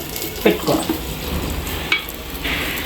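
Butter for a sprouts sandwich sizzles steadily in a pan, with a few nearby scrapes and taps from stirring over the frying hiss.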